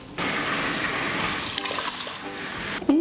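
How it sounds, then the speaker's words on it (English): Water runs steadily from a tap into an Instant Pot holding rice, a cup and a half poured in one continuous stream over about three seconds, close and fairly loud with a brief splashy burst at the end. "I'm gonna add a cup and a half of water."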